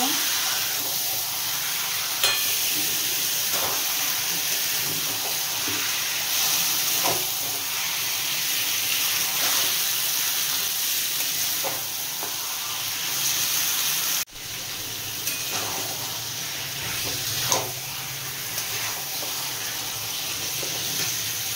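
Marinated mutton sizzling and hissing steadily in a hot pan for mutton dakbungalow, with occasional scrapes and knocks of a spatula stirring it through, close and continuous without speech.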